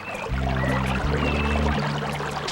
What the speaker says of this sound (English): Fade to water sounds